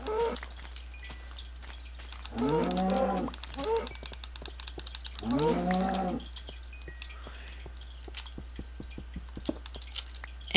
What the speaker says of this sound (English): Lots of cows.